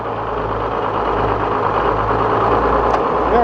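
A sawmill engine idles loudly and steadily up close, a low rumbling drone with a faint knocking pulse, briefly shifting near the end as it is put into gear.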